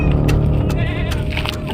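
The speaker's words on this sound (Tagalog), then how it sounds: "Kawawa na may kambing sa'yo" Goats bleating near a farm, several wavering cries in quick succession over a loud, continuous bed of animal noise, with no talk.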